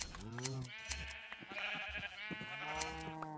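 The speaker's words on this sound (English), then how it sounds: "So we'll shear some sheep, get wool," Sheep in Minecraft bleat several times in quick succession, wavering nasal calls that overlap one another, close and clear with no talk over them.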